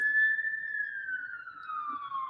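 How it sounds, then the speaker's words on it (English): A police siren sounds from outside as a single faint, distant wailing tone that slowly slides downward in pitch, heard alone without talking. "I don't know if you can hear those sirens."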